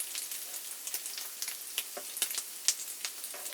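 Corned beef hash and eggs fry on a griddle with a steady crackling sizzle and scattered sharper pops, close and moderately loud, with no voices.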